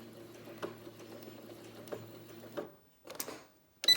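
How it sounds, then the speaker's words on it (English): A sewing machine runs a short locking stitch on a fabric mask, giving a soft, steady mechanical hum with light ticks. It stops, then a few clicks and handling noises follow, close by. "I'm going to do a little locking stitch at this point because my machine has the setting"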